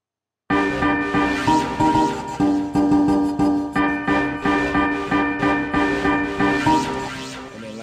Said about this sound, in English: two synths together sound like this